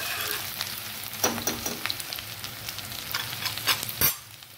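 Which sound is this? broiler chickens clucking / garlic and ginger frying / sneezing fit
garlic and ginger frying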